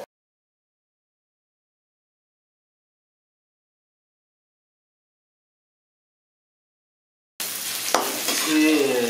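Dried prawns frying and being stirred in a pan while making gongura prawn pickle, a sudden burst of sizzling with scraping stirs that starts late after long silence and stays steady and close.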